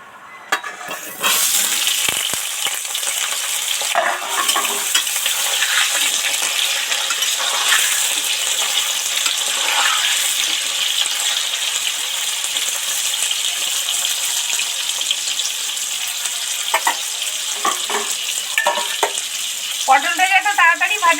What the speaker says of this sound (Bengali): তেল তো গরম হয়ে গেছে এবার পটলটা তেলের মধ্যে উঠিয়ে দেবো